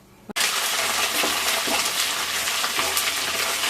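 Ginger drops into hot oil left over from frying fish for pickle, with a sudden burst of loud, dense sizzling that holds steady and bubbling for a few seconds.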